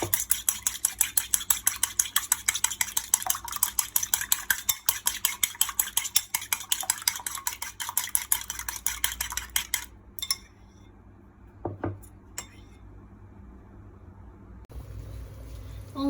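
Chopsticks beat an egg in a bowl in fast, rhythmic clicking strokes that run steadily for about ten seconds, loud and close. A few isolated taps follow before a quieter stretch.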